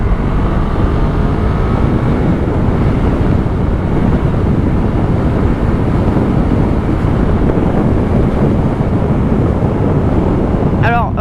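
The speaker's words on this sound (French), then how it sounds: "On va faire une petite accélération." A motorcycle accelerating hard, its engine roar steady and loud throughout, mixed with heavy wind buffeting on the microphone, like a rider-mounted recording at speed.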